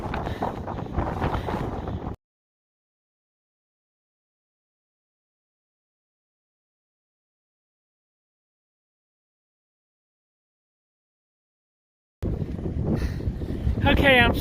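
Strong cold wind gusting across a mountain trail near Tehachapi, a loud rough roar buffeting the microphone in two bursts separated by a long stretch of silence, with a person talking under the first burst.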